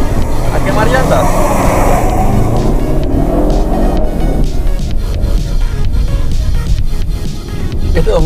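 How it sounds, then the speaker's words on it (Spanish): A 2018 Ford Mustang performs a burnout, engine roaring loud and continuous with spinning, squealing tires, close to the microphone and unbroken throughout. "Apretamos OK, pisamos el freno y nos va a dar la señal de cuándo podemos hacerlo. Y a quemar llantas."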